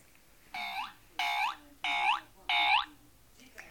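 A toy kangaroo gives four evenly spaced electronic beeping chirps, each about a quarter second long, bright and fairly close against a quiet room.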